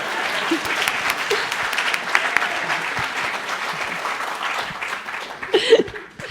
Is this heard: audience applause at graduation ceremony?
yes